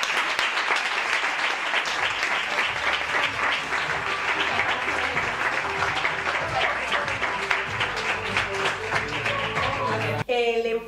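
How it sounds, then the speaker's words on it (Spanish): A gala crowd at a rural hotel gives award winners sustained, dense applause of many hands clapping, steady and fairly loud throughout before cutting off near the end. "Un fuerte aplauso."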